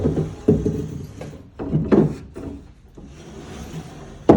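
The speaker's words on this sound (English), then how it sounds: "We got the window door." A sliding window door in a Japanese tatami room rumbles along its track in a few short wooden slides and bumps, fairly close, ending with a sharp knock.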